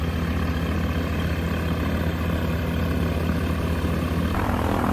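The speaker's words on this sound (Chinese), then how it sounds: "现在我们这个另外一个学员的飞机准备滑出了" A light propeller training airplane taxiing out at an airfield, its engine droning steadily and loudly throughout, with no talking.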